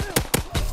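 Gunfire in Call of Duty WW2: three sharp shots in quick succession, loud and close, with brief ringing tails between them.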